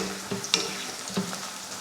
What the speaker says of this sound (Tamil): ஒரு பெரிய வெங்காயத்தை நீல வாக்கில் வெட்டியிருக்கேன், அதையே சேர்த்துக்கலாம். சேர்த்துட்டு இதை வதக்கிடலாம்